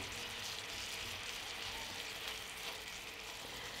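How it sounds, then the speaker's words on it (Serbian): Meat medallions fry in a pan with four sprigs of fresh rosemary, giving a soft, even sizzle that holds steady throughout at a fairly faint level. "i sve ćemo to pržiti dalje na nižoj temperaturi"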